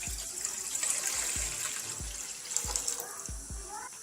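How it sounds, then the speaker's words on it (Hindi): Water pouring from a glass into a cooking pot, about six glassfuls, for a moong masoor dal, with a steady wash of running liquid and several soft low thumps as each glass empties. "तकरीबन 6 गिलास पानी।"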